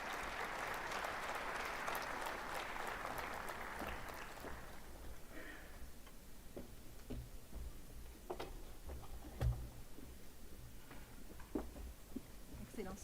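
Audience applause greets the incoming African Union president at a heads-of-state summit in Addis Ababa, a dense clapping wash for the first few seconds that thins into scattered claps and room noise.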